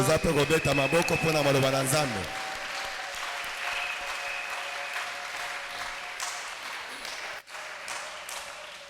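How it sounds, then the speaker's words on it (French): Talk carries over the opening seconds, then a church congregation breaks into sustained clapping that fills the room, with a faint tone underneath. "on applaudit pour la parole du Seigneur"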